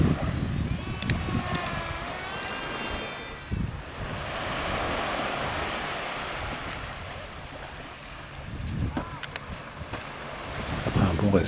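Wind blowing across the coast of the Île d'Yeu, a steady, loud buffeting rush against the microphone with surf-like wash, while a small model flying wing whines faintly in the air and brief voices are heard at the edges.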